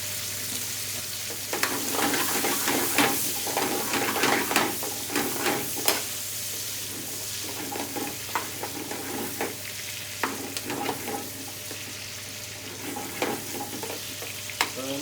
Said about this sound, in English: Just waiting for the onions to slightly caramelize. The sugar's going to help.